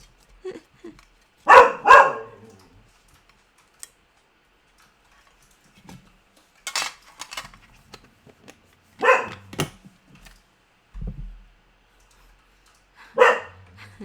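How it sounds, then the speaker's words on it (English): A neighbor's dog barks in several sharp, separate bursts spread out over time, with quiet gaps between them and faint ticking in the background. "The neighbor's dog have also joined in"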